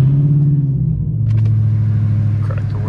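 A 2020 Dodge Challenger SRT Hellcat engine, started by remote start, turns over and settles into a steady low idle rumble, close by, with a brief mechanical clatter partway through.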